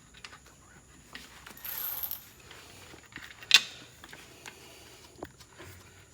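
Bolts are tightened on a Yamaha 30HP outboard motor with soft ratcheting clicks and light metallic clinks, one sharper tap standing out amid the faint mechanical sounds.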